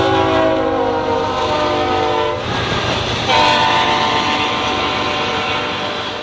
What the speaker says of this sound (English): a freight train comes by